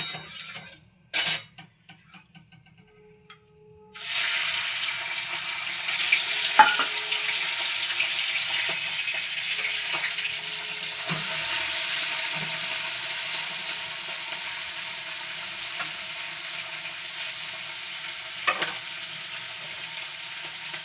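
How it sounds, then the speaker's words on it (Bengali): Prawns fry lightly in white oil in a pan, with a few sharp utensil clatters first and then a steady close sizzle with occasional stirring taps, no speech. "এর মধ্যে আগে চিংড়িটা আমি ফ্রাই করে নেব খুব হালকা করে"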